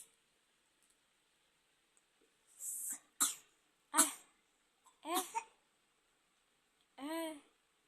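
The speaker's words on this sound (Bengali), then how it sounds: "ও তো কাশি" A young boy coughs in a series of five short, rough bursts spaced a second or so apart, close by in a quiet room at night.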